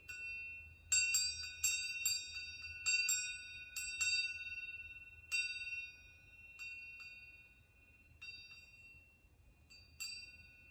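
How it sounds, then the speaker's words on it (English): A meditation bell is struck several times in an irregular series, each clear ringing strike hanging and fading before the next, close and alone in a quiet room with a low hum underneath. "I'm going to use my bell here to get us a nice little clearing of the air."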